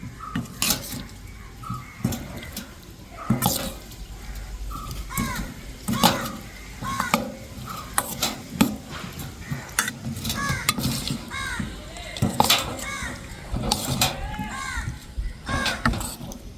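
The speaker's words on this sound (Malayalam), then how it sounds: "നല്ലതുപോലെ ഒന്ന് മിക്സ് ചെയ്തെടുക്കാം." Cauliflower fry ingredients are mixed by hand in a bowl, giving repeated close scraping and clinking strokes with soft wet squelches, steady and busy throughout with no talking.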